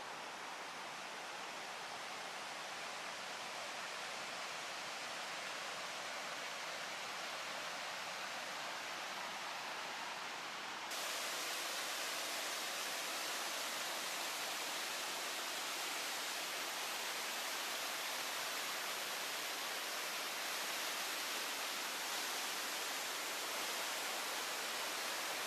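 The Animas River in Colorado's San Juan mountains rushes beneath a footbridge, a dense, steady hiss of flowing water that jumps noticeably louder partway through and then holds constant.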